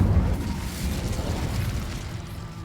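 A fire spell, Incendio, is cast in the video game Hogwarts Legacy, giving a rumbling, low whooshing burst of flame that carries on steadily for a few seconds.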